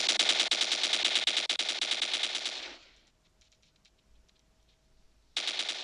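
Automatic gunfire from the video game Standoff rattles in a loud, rapid burst for nearly three seconds, stops into a quiet lull, then resumes abruptly with another sustained volley.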